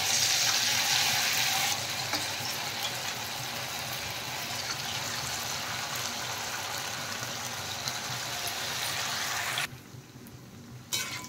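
Marinated cauliflower florets for crispy cauliflower Manchurian deep-frying in well-heated oil, a loud continuous hissing sizzle that holds steady and then drops off sharply near the end.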